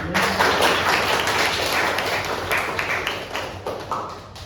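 Applause from an audience in a class or studio setting, steady clapping with distinct close hand taps and a few thuds, lasting several seconds.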